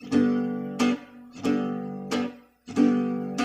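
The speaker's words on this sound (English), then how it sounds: "Another thing that can be done is to delay the upstroke. Just make it the attack a little bit slower" Acoustic guitar accompaniment in a jazz style, strummed chords with the upstroke delayed and attacked more slowly, four close, even strums, each ringing and decaying before the next, with no voices.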